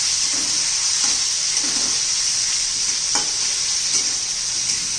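Tomatoes with garlic sizzle and fry steadily in a pan, with a few stirring scrapes as the mixture is turned, close and fairly loud with no talking.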